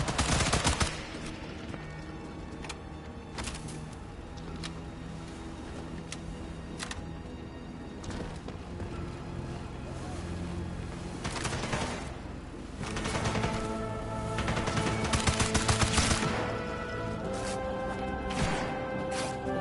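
Rapid bursts of automatic gunfire in a first-person shooter video game, dense and loud, with several heavier volleys and crashes scattered through a continuous game soundscape.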